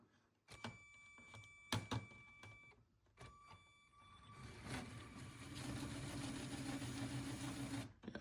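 A LEGO logging train locomotive motor starting up and straining, heard as short whirring bursts with pauses, then a sustained buzzing mechanical whine that grows louder and steadier, nearby in a quiet room.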